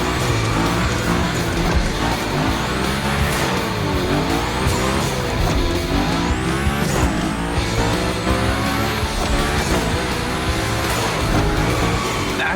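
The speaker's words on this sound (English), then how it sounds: "Go slide his line, just follow his tire tracks." A car slides through gymkhana runs in The Crew Motorfest racing game, its engine roaring continuously while tires squeal in repeated rising and falling sweeps, loud and close throughout.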